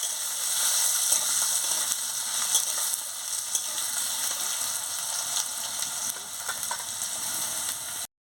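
Potatoes frying in a pan give a constant bright hiss and crackle that stays steady and close throughout, with faint stirring scrapes underneath.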